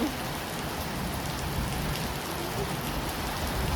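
Rain streaming down a window pane makes a continuous broadband patter and hiss, uniform and close throughout, with no voices over it.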